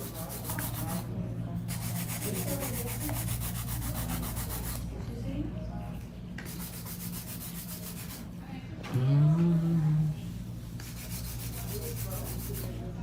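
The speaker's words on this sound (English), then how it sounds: "And this keeps the shape too when you're hand filing." A 180 grit nail file is rubbed by hand across fingernails in steady, close, rasping strokes with short pauses between passes, and a voice is heard briefly partway through.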